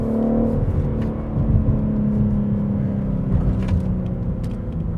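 Inside a moving BMW M3 Competition, a rear-wheel-drive sports sedan, the engine drones with a steady low rumble and whir as it cruises, holding a smooth even tone with slight swells under faint road noise.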